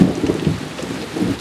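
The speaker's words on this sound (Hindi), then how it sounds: "और बारिश देना शुरू कर दिया।" Heavy rain pours down steadily with low rumbling thunder rolling beneath it, a dense and loud storm wash with no voices.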